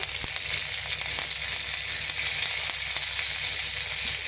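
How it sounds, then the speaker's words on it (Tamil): Mustard seeds pop in hot oil while rasam is being made, giving a loud, steady sizzle broken by scattered sharp crackles throughout. "இப்போ கடுகு பொரிஞ்சிடுச்சு"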